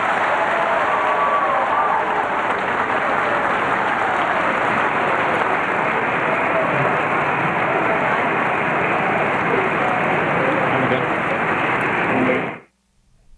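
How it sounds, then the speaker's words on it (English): Sustained audience applause at the close of a 2007 Democratic presidential primary debate in South Carolina, a dense, steady wash of clapping from a large crowd that holds loud for about twelve seconds, then cuts off abruptly. "Now you can applaud."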